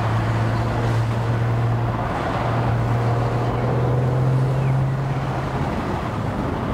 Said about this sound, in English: Just enjoy some more convertible riding here with me.